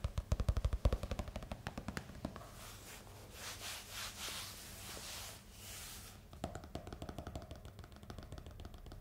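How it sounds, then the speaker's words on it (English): Close, quiet scratching over notebook pages, with rapid rhythmic scraping strokes at the start and end and softer sweeping rubs between. "And some scratching sounds."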